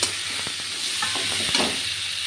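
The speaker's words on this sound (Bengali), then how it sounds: "তো এটা একটু ভাজা হোক" Prawns and Malabar spinach fry in a pan, giving a steady close sizzle and hiss broken by a few scraping stirs of the spoon.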